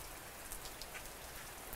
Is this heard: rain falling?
yes